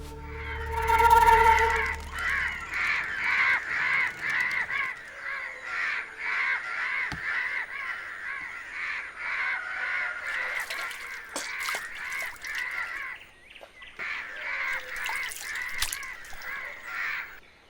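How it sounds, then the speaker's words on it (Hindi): Crows caw over and over in a steady, overlapping chorus of harsh calls that runs throughout, fairly close and without any talk. "ये कौवा तो बहुत परेशानी करता ही है"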